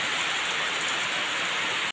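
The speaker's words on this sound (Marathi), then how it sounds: "जोरदार पाऊस इलो जोरदार" Heavy rain in a Konkan village during the monsoon, a dense, steady roar of downpour hammering surfaces close by, loud and continuous, cutting off abruptly at the end.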